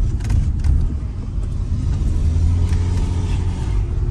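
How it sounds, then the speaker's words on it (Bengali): A 2017 Toyota Premio FEX package car with a 1500 cc engine drives with its windows open, giving a steady low engine rumble and road noise that stays even throughout. "গাড়ি কিন্তু গ্লাস খোলা স্টার্টে আছে, এই চালাচ্ছি"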